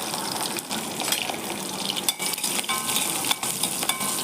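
Ginger and garlic sauté in oil for a chutney, with a continuous close sizzle and frequent scraping, clattering stirs against the pan.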